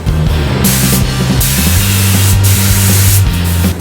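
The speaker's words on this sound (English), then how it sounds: "now it's time for the clear coat from a spray gun." Continuous hiss of a spray gun misting clear coat, steady and close, with a low mechanical hum beneath and brief pauses between passes.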